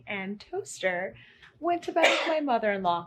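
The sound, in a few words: a person sneezing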